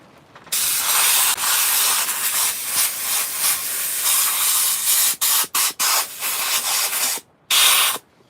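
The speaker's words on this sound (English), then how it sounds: "it's a good idea to take compressed air and just try to clean them out" Compressed air blasts into grub holes in a chainsaw-carved wooden bald eagle, a loud continuous hiss broken by a few short pauses and quick bursts near the end.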